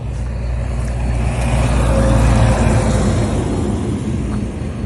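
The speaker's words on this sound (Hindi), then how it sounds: "आर्मी की गाड़ी यहाँ से जा रही है" An army vehicle drives past on a street in a deserted Syrian town, a loud, close low engine rumble that swells and then fades slightly, with no talking.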